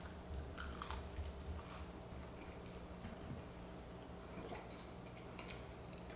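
Close, quiet bites and chewing on an air-fried salt and pepper chicken wing, soft crunchy clicks and moist chews scattered over a low steady background hum, with no talking.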